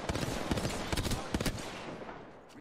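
Rapid bursts of automatic gunfire from an Apex Legends Season 7 ranked match, several clustered volleys cracking out sharply in the first second and a half before fading, with a voice talking faintly underneath.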